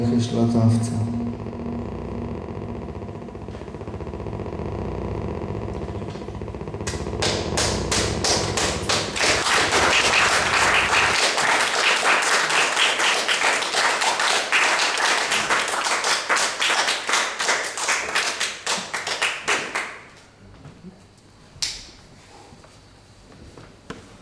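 An audience applauding after a poetry reading at the preTEXTY 2016 festival in Wałbrzych, a burst of clapping that swells after low sounds and talk, stays dense and lively for several seconds, then stops abruptly into quiet with a few stray claps.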